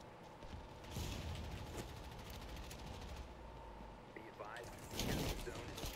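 Rapid bursts of automatic gunfire rattle in an online shooter video game, a sustained fusillade with a heavier volley near the end, fairly loud and dense.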